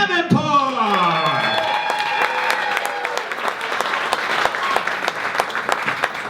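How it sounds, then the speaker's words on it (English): An audience at the Abbey bursts into loud, sustained applause for comedian Danny Davenport, dense clapping with some cheering that carries on steadily throughout. "give a big round of applause for Danny Davenport"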